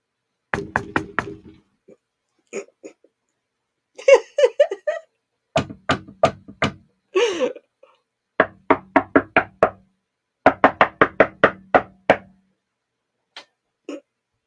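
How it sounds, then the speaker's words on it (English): Sharp knocks on a door in several quick bursts of three to six raps, separated by pauses, with a few muffled voice sounds in between. "I've been standing outside for a half an hour knocking at your door"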